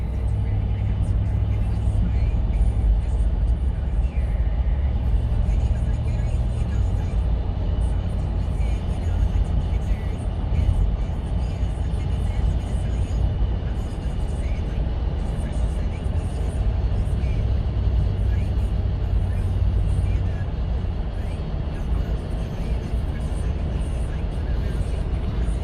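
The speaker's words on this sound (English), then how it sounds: "So driving it, it's shifting really smoothly through the gears." A 2004 Toyota 4Runner Limited V8 on the road, its engine and drivetrain rumbling steadily through smooth gear shifts, a constant low drone with road noise filling the interior throughout.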